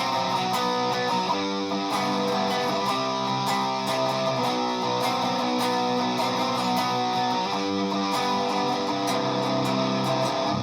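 Electric guitar plays the verse riff of a song, one octave lower, a dense distorted run of repeating palm-muted chugs and chords, loud and continuous with no talking.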